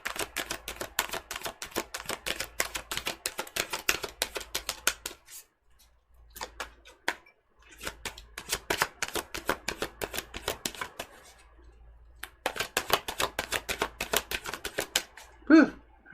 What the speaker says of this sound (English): This might be a long shuffle.